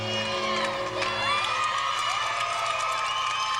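Crowd noise fills a women's gymnastics championship arena at the 1998 Big Ten meet: a continuous roar of cheers and whoops carries across the whole stretch, with tonal sounds running underneath.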